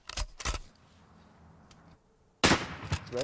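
A Henry lever-action rifle firing rimfire metallic cartridges: two sharp close reports in quick succession, a quieter stretch with faint mechanical clicks of the lever, then another loud blast that rings out.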